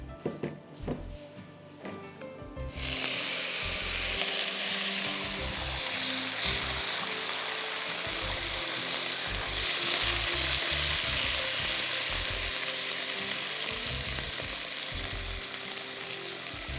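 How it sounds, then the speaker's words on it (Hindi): Ghee sizzles and splatters loudly in a hot pan while sweet pulao is cooked, a faint clatter giving way after a few seconds to a steady, dense frying hiss that carries on to the end. "lots of things are स्प्लैटरिंग on me today"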